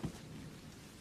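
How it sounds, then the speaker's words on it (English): Steady, faint rain falls in a soft continuous patter with a low rumble beneath, no voices. "The rain will fill the hole, and then they can swim out."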